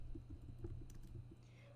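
Someone types a file name on a computer keyboard while saving work, a short run of soft, quick keystrokes with irregular spacing, quiet and close.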